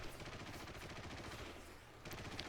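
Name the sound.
machine gun fire in a simulator battle video game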